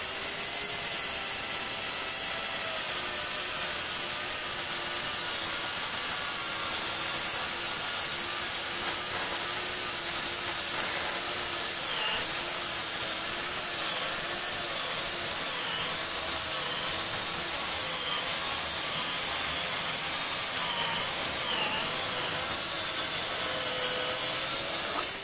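An electric chainsaw from GTM cuts thin slices from a stump of wet apple wood, giving a steady, loud, continuous buzzing whine that holds for the whole stretch with no voices.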